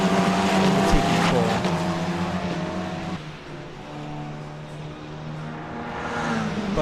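F4 race cars lapping Laguna Seca in reverse layout in a racing video game, engines whining loud and close with shifting pitch as cars pass and overtake, possible tire squeal, a voice talking over them.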